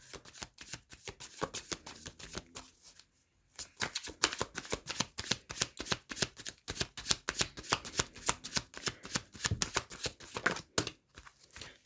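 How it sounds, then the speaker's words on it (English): Tarot cards being shuffled close by: rapid, crisp riffling bursts in repeated rounds, broken by a brief pause early on, with no voices. "I'm going to pull some tarot cards just to confirm some of those energies"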